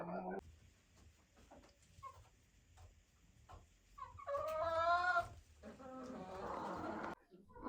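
Hens cluck and a turkey gobbles in a burst of loud, rising calls, over low background noise and scattered softer clucks.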